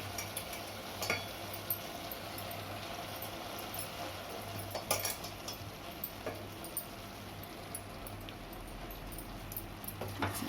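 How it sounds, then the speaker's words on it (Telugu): Cooked rice being stirred and folded into a pot of Hyderabadi chicken fry biryani, a quiet, steady scraping and shuffling with faint sizzle beneath and a few light clinks of the spoon against the pot. "ముందు ఉడికించుకున్న రైస్ ఇందులో కలిపేసుకోవాలి"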